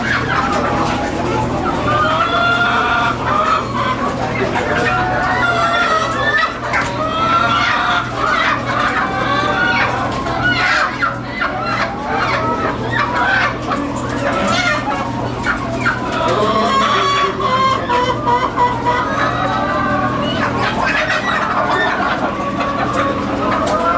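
Many chickens cluck continuously at a poultry farm that also sells rabbits, a busy, overlapping chatter from birds close by with occasional louder calls.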